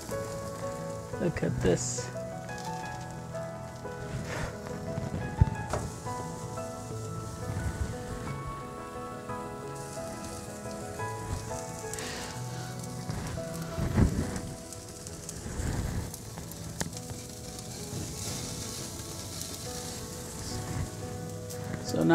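A thick tomahawk steak sears over the heat of a home fireplace, giving a steady crackling sizzle like rain on a hard surface, with pops and spits throughout and a brief spoken remark near the start.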